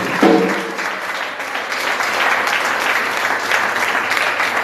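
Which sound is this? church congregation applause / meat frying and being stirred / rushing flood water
church congregation applause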